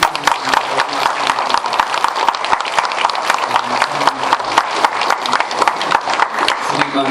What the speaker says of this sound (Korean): 박수가 뜨겁게.